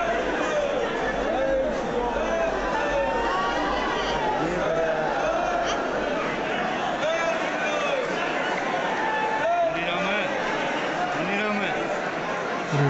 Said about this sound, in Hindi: हजारों लोगों की भीड़ लगी हुई है।